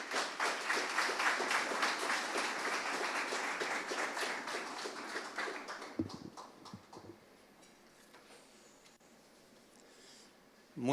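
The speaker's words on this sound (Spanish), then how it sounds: "Lo recibimos, por favor, con un aplauso." An audience at a book launch gives a sustained, dense round of applause to welcome a university rector, then the clapping fades out to quiet room noise with a few shuffles.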